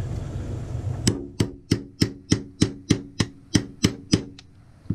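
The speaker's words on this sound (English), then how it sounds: "hammer out that roll pin like so" A hammer strikes a metal punch to drive out a roll pin from a buffer weight, about a dozen sharp, evenly spaced metallic taps close up with ringing decay between blows.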